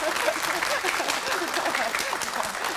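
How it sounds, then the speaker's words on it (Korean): Studio audience applauding on a Korean morning talk show, a steady, dense clatter of clapping filling the whole stretch at moderate loudness, with some voices mixed in. "일단 박수 한 번 더 보내드리고요."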